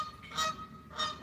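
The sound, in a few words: geese honking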